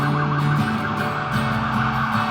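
Emergency vehicle sirens wail past outside a small art gallery in Saluda, North Carolina, a loud, steady, sustained tone with a faint rise and fall over traffic noise.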